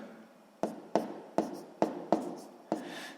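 Pen writing out a sixth-grade math solution on paper, six quick close strokes in a steady rhythm with quiet scratching between them.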